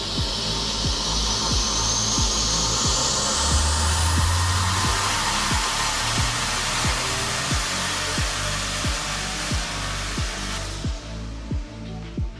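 A Toyota GR Corolla fitted with its stock intercooler runs hard on a dyno. Its engine note climbs steadily in a long, loud roar over a rhythmic thumping of the rollers, then drops off sharply at the end. No one talks.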